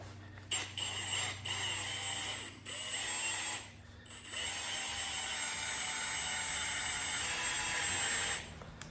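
A high-pitched drill whines steadily, pausing briefly a few times before running continuously, close and fairly quiet.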